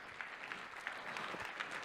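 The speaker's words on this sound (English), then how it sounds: "let's give the occasion a big round of applause, please." Conference audience at a MarineTech welcome address gives a round of applause, a quiet, slightly distant but steady patter of many hands clapping.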